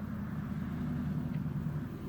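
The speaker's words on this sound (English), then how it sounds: "And as the cars go by, as you can tell, once in a while" Steady low rumble of cars passing on a road outside near a big hill, a continuous distant traffic drone with no voices.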